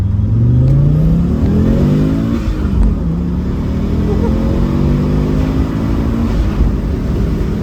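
Audi S2 car accelerating hard in first gear, engine note rising steadily from a low growl then settling after a shift, loud and close from inside the cabin, with someone talking over it.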